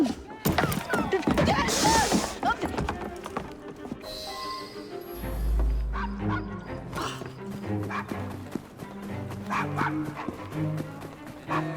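A dog barks and whimpers in the video game Assassin's Creed Syndicate, sharp repeated yaps and whines over busy game sounds, hoofbeats and low music, with some talk mixed in.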